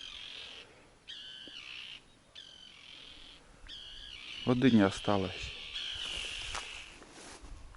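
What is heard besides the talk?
gulls crying near their chicks by a river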